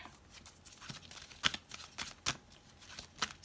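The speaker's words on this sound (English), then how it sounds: "let me pull one more card" A tarot card slides out of the deck during a reading, heard as a few soft, close papery swishes and flicks over a quiet room.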